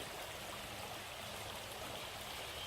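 Clear mountain valley stream on Juheulsan in autumn, flowing at low level with a steady, even rushing and trickling of water and no voices.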